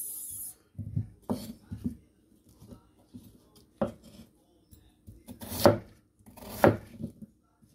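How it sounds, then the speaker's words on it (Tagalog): Knife chopping potatoes into small pieces on a board, a series of sharp separate cuts in uneven bursts with quiet gaps, the louder strikes coming toward the end; no voices. "maliliit din po yung hiwa natin dito sa ating patatas"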